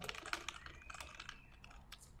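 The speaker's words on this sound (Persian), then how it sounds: "بذارید من یه خورده تایپ بکنم." Rapid keyboard typing, soft and close, with irregular clicking keystrokes and no voices.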